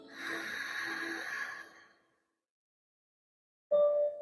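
A calm nasal inhalation in a guided breathwork session, a close, breathy hiss held for roughly two seconds before fading into silence, after which a speaking voice briefly enters.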